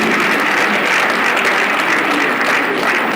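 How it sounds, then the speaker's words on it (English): An audience gives a loud, sustained round of applause for elder statesman General Yakubu Gowon, dense even clapping throughout with faint crowd murmur. "another round of applause for General Dr. Yakubu Gowon."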